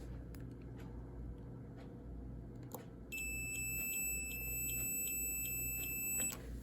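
A steady, high electronic multimeter continuity beep on a good riding lawn mower fuse sounds continuously for a few seconds over a low background hum, with faint clicks before it starts.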